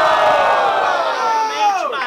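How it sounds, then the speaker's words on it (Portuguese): A large crowd at a rap battle semi-final in Guarulhos, Brazil cheers and shouts together in a loud, sustained roar, with voices rising into whoops before the noise begins to fade. "Barulhos, barulhos pra quem gostou das rimas do Barreto"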